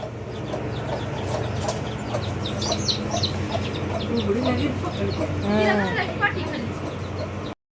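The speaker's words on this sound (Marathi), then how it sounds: "ही कोंबडी अंडी उबवत बसली होती" A brooding hen clucking softly and repeatedly amid background chatter and ambient noise, with a few sharper calls near the end.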